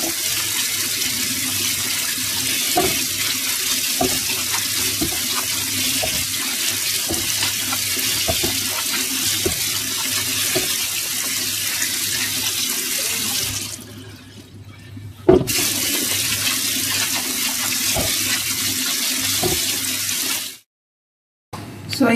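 Amla washed under a running kitchen tap, a loud steady rush of water with small splashes, briefly cut off twice before the flow resumes.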